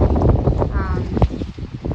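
Cold wind gusting and buffeting the microphone outdoors after rain, a rough low rumble that swells and eases over two seconds, with a faint voice underneath.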